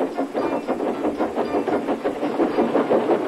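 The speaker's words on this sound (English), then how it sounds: "Gently braking, Edward's driver checked the engine's speed, and James's fireman scrambled across and to" A steam engine train braking on rails produces a loud, close, rhythmic clatter of wheels and chuffing pulses, repeating evenly with no voices.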